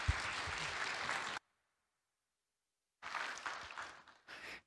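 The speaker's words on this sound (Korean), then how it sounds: "박수로 같이 맞겠습니다." A church congregation breaks into dense applause at a Korean worship service, clapping loudly for over a second, falling to silence, then resuming in two more bursts near the end.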